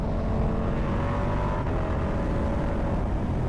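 Ducati SP motorcycle ridden along Angeles Crest Highway, its engine droning steadily and loudly up close with heavy wind rush throughout, no talking.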